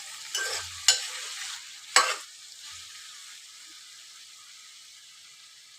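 A spoon scrapes and stirs through a pan of frying broad bean and potato curry with tomatoes just added, giving a few sharp clatters over a steady, soft sizzle.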